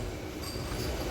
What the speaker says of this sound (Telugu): మచిలీపట్నం స్టేషన్లోకి అలా ఎంటర్ అయిపోతుంది మన ట్రైను